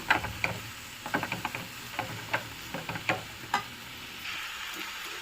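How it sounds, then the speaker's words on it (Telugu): Jaggery melts in a pan for coconut laddu while a spoon stirs it. Quick taps and scrapes land in uneven clusters over a soft, low sizzle, then taper into a quieter hiss. "చూడండి, మొత్తం బెల్లం కరిగిపోయేంత వరకు ఇలా తిప్పుతూనే ఉందాము."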